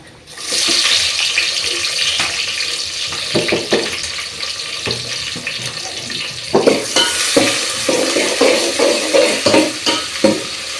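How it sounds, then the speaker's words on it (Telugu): Sliced onions drop into hot oil already holding cumin, mustard seeds, curry leaves and bay leaves for a chicken fry, and a loud close sizzle starts at once, then continues with stirring scrapes and crackles and no voices. "నేనైతే 2 ఉల్లిగడ్డలు కట్ చేసుకున్నా, ఇదిగానే వేస్తున్నా."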